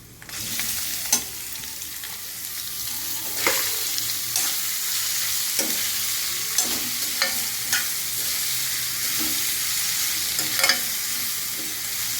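Sliced onions sizzle steadily in hot oil in a pan for Kumbakonam tomato thokku, with repeated scraping stirs of a spoon cutting through the continuous frying hiss, close and fairly loud.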